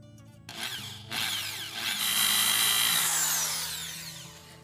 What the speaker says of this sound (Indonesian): Kalau saya biasanya mengebor sahabat menggunakan bor kecil dulu.